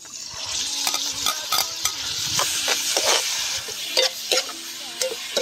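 Ginger and garlic sizzle and fry in a pan, a steady close crackle of oil broken by the scrape and clack of a utensil stirring against the pan at an uneven pace.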